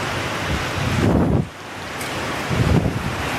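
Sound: moderate rain from outer edge of typhoon Haiyan

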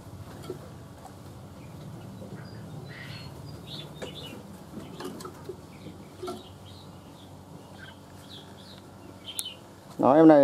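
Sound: Chinese hwamei songbird singing

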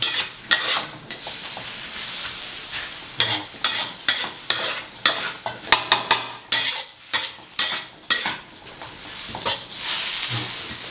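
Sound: stir-frying bitter melon with eggs

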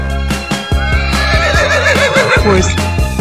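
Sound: horse neighing

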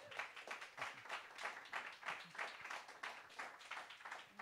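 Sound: applause for a DJ

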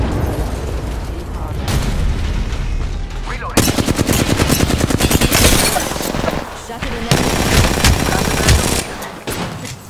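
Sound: gunfire in the video game Apex Legends

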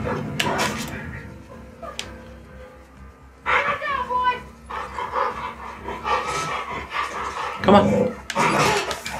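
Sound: dog barking and whimpering in The Last of Us 2 video game

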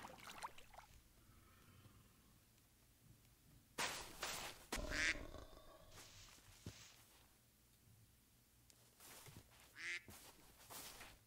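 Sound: drake (male duck) quacking in Minecraft, video game

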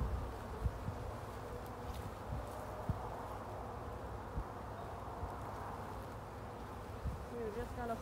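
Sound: honey bees buzzing around an open beehive

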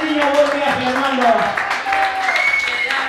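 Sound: audience applause for the children at a festival

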